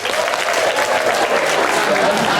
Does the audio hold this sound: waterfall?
no